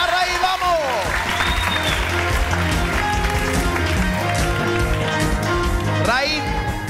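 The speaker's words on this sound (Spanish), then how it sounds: "Aplauso para Raíz." A game show studio audience breaks into loud, sustained applause and cheering, with whoops and a host's voice cutting through the dense clapping throughout.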